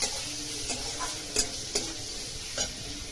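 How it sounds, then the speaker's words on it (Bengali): Chopped raisins and cashews frying in a pan for flattened-rice pulao, with soft steady sizzling and a few sharp stirring clinks and scrapes, close by and without talk. "তারপরে কাজু বাদাম কুচনো দিয়ে দেব, দিয়ে একটু নাড়বো।"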